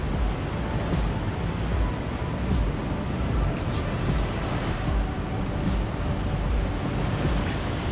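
Rough ocean waves crash and splash against a rocky shore in Mendocino County during shore fishing, a loud continuous roar with wind buffeting the microphone and a few sharper splash bursts.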